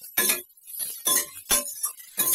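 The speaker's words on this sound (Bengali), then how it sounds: "আমলকি দিয়ে ভালো করে নাড়াচাড়া করতে হবে।" Indian gooseberries (amla) with ginger being stirred in a pan, a series of light clinking and scraping strokes from a utensil against the pan, coming in short irregular bursts.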